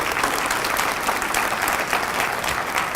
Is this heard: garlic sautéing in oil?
no